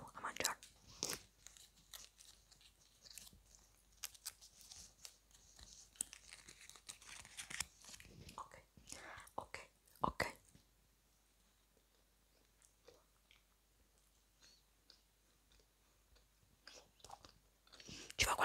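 Someone bites and chews a large, soft plum cake close to the microphone, with quiet, uneven mouth sounds, soft tearing and faint crinkling of the wrapper, broken by louder bursts near the start and the end.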